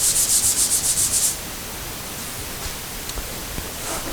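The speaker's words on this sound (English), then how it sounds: "So we're just scuffing it to get it ready to accept the next coat of polyurethane" Hand sanding scuffs a cured polyurethane coat on a wooden plant stand: about eight quick rhythmic rasping strokes up close, then the rubbing stops and only faint room noise remains.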